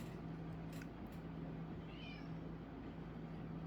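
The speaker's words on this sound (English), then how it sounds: "that's my brother's cat. The meow you heard." A cat gives a faint, brief meow against a steady engine hum inside a small Cessna 152 aircraft taxiing on the ground.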